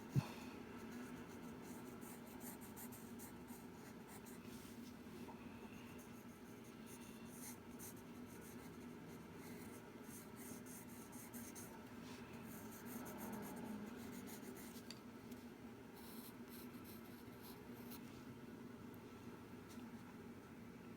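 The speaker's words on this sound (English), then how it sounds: "The 3H pencil actually isn't too bad for sketching." A 3H pencil scratches steadily across paper while sketching hands, a soft continuous rasp of quick strokes close to the microphone over a faint room hiss, with no talk.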